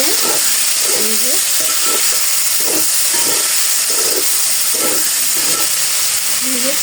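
Curry with nuts, chickpeas and green chilies sautés loudly in a pan, a constant sizzling hiss overlaid with rhythmic scraping strokes of the spoon stirring repeatedly, close up.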